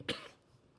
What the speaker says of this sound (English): I'm about to cough my ass off, bro